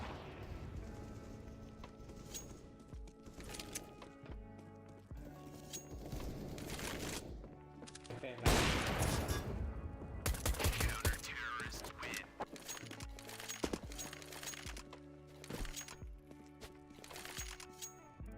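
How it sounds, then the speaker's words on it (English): Dense CS:GO match audio with rapid gunfire and sharp cracking bursts, peaking in a loud flurry midway, as an incendiary and a grenade are thrown amid constant in-game clatter. "Incendiary out. Throwing a grenade."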